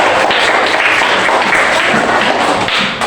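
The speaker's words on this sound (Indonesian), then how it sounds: "tepuk tangan untuk kelompok 4" A classroom of students clapping for a group during a teaching practicum session, dense and loud continuous applause with scattered thumps, close and filling the room before tapering at the end.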